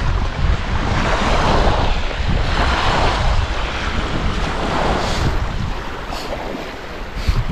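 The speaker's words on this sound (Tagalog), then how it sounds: "Nakaka-relax yung mga talbog ng alon." Sea waves wash along a shore in the late afternoon, a loud continuous rushing surf mixed with heavy wind buffeting the microphone, with no voices.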